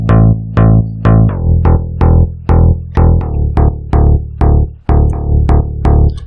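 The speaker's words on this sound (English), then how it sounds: "I've given it 100 milliseconds of pitch glide, so every time it switches to another note, you'll hear that transition" An 80s-style synth bass plays a loud, punchy line of repeated plucked notes, each change of pitch sliding smoothly into the next with a 100-millisecond glide.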